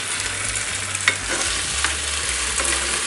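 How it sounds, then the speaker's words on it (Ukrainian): Potatoes frying in oil in a heated pan, stirred every few minutes on a stovetop, give a steady close sizzle with soft scraping stir strokes and a few louder clatters, no talk over it. "Мішаємо картоплю кожних 5 хвилин."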